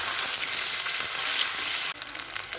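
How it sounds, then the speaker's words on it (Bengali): Fish pieces frying in a pan of hot oil, a steady close-up sizzle that runs without pause and drops to a slightly softer crackle near the end. "ভেজে নিচ্ছি মাছটা।"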